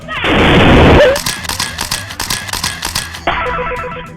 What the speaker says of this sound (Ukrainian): Він запропонував хлопчику вирвати чеку, тоді прогремів вибух.